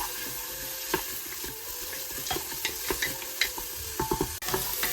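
Sliced onion sautés in a pressure cooker for chicken biryani, giving a moderate, steady sizzle with frequent scraping and tapping from a spoon stirring against the metal pot.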